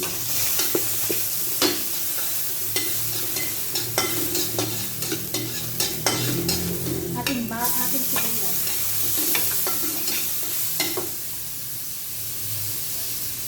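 Sliced ginger sizzles and spits in hot oil alongside fatty salmon belly marinated in vinegar and soy sauce, a steady close crackle with scattered pops and brief stirring scrapes, no voices.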